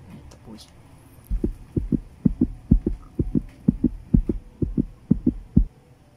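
A voice imitates a heartbeat with the mouth, giving a steady run of about fifteen soft paired thumps, close and moderately loud, with faint murmuring before it starts.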